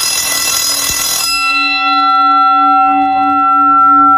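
An electric bell rigged to a timer rings loudly and harshly for just over a second, then cuts off abruptly, leaving a steady electrical hum.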